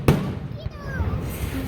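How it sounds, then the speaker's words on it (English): Fourth of July fireworks bursting, a sharp near bang at the start followed by crackling and popping in a noisy outdoor crowd, with people talking throughout. "The fireworks."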